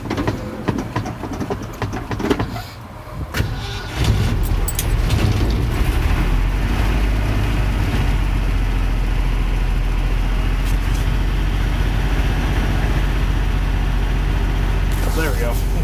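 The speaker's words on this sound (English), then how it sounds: "300 inline 6 runs." A Ford 300 inline-six cold-starts on the first cold morning of the season, cranking briefly and then settling into a steady, rough idle that misfires on only four cylinders, loud and close for a long stretch.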